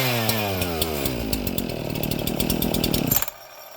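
An Echo CS-4910 chainsaw with a modified air filter runs close and loud, revving with rising pitch and rapid chain clatter for about three seconds before cutting off abruptly.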